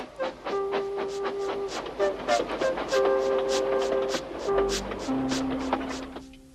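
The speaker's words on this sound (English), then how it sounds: "Thomas puffed sadly away." A steam locomotive in the Trainz video game chuffs rhythmically under a soft melodic music track, with a steady, moderately close puffing that carries on throughout.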